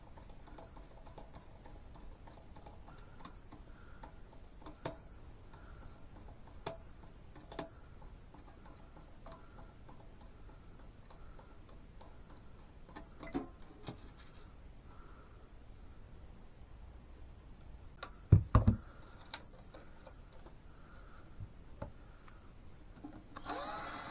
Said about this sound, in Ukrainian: Розкручуємо зараз. Ці винти длиннючі.